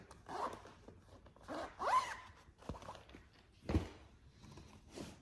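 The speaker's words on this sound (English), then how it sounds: "Sorry about the zippers, guys." Zippers on fabric craft project bags opened and closed: three soft, quick rasping zip strokes spaced a second or more apart in a quiet room.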